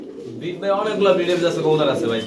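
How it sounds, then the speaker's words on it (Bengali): Lahori pigeons for sale coo in low, throaty bursts that swell after the first half second, overlapped by other pigeons and general chatter in a busy bird market. "এই যে দেখতে পাচ্ছেন ডান কালার মধ্যে খুবই চমৎকার লাহরি কবুতর"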